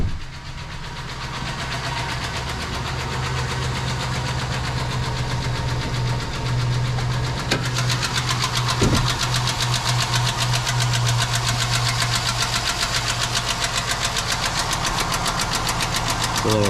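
A 2006 GMC truck's 4.8 V8 idles nearby with a rapid, rhythmic ticking knock running steadily through its low hum, alone with no talk.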